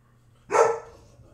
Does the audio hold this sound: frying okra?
no